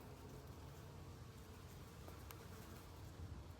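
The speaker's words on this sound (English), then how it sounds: "So the bugs are loving this record warmth. Pollinating the hollyberry" Many insects buzzing around flowering holly berry bushes during record October warmth, a steady faint outdoor hum of wings with no talking.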